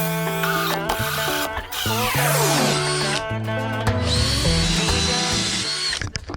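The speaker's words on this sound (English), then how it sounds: "Mike's been trying to drill through to install our diesel heater" A power drill boring through a campervan floor to fit a diesel heater, loud and close, whining in bursts that stall and restart, with pitch sweeping as the load changes and music playing underneath.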